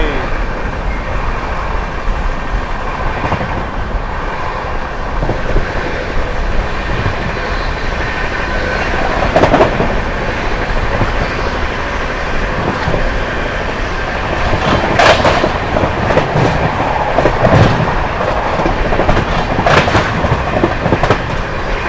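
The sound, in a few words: Barauni New Delhi Clone Express train running at full speed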